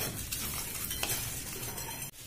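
Whole coriander, pepper and curry leaves frying in oil, a soft continuous sizzle with light stirring scrapes, fairly faint and close, briefly cut off near the end, no talk.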